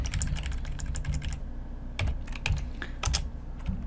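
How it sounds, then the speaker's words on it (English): Fingers type on a computer keyboard, with quick irregular key clicks in short runs separated by brief pauses, close and clear with no talking. "Let's type MsgBox and let's type our message."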